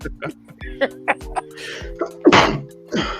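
A single sharp sneeze bursts out amid casual chatter, with people talking before and after it.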